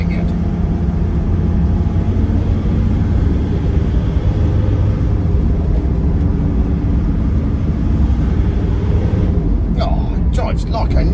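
A Mercedes 310d van drives along with a loud, steady low diesel rumble and road noise from inside the cab, and a few clicks and rattles near the end.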